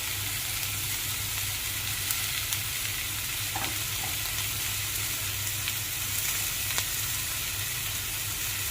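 Vegetables seasoned with salt, crushed chilli and black pepper sauté in a pan. A steady, close sizzle and fry carries on throughout with a few faint clinks of stirring and no talk.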